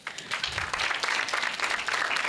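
Audience at the LCOY-BW 2024 design thinking plenary breaking into a round of applause for a volunteer, with steady, moderately loud clapping from many hands throughout the short stretch.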